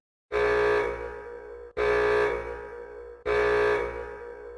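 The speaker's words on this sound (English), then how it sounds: "suddenly you hear over the loudspeaker a warning siren, then an announcement" Three long, loud electronic alarm tones, each starting abruptly and fading slightly before the next, a warning siren blaring over a public loudspeaker in Japan.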